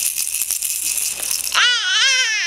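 A handheld toy rattle is shaken in quick bursts for about a second and a half, then a baby breaks into a loud, wavering cry that takes over.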